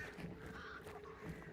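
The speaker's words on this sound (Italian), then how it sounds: "I corvi, corvi, corvi, corvi, corvi" Crows cawing in a hunting video game, several harsh caws in quick succession, faint and somewhat distant over a soft background hiss.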